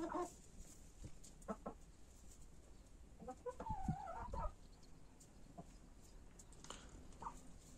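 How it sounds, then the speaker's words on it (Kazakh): Chickens clucking softly at a distance, a few scattered calls with one louder burst in the middle, over quiet outdoor background. "Тауықтар"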